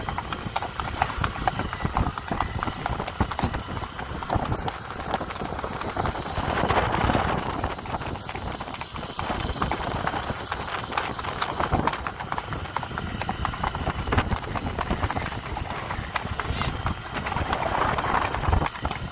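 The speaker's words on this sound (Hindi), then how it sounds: "काफ़ी टाइम के बाद घोड़ा को आज घुमाया जा रहा है" Racehorse hooves clip-clop in a fast, steady rhythm over rough outdoor noise, continuous and close, with a faint neigh in places.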